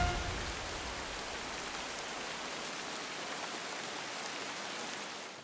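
Steady, even rainfall patters on surfaces, a dense hiss of drops holding the same level throughout with no voices over it.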